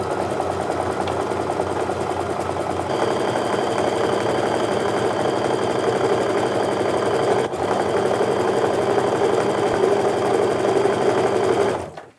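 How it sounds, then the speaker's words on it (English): Sewing machine stitching a quarter inch seam on Christmas quilt fabric, a loud, steady close-up motor whir with rapid needle clatter running unbroken for about twelve seconds before stopping. "All right, so I'm just going to sew that 1/4 inch seam all the way down."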